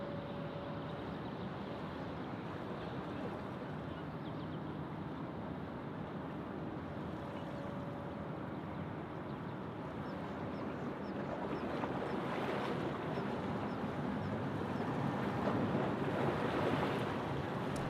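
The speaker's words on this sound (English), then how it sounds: "Can you guys hear that water lapping?" Water laps gently near Sydney Airport amid a broad, steady wash of wind and ambient noise, the lapping swelling slightly toward the end, with no voices.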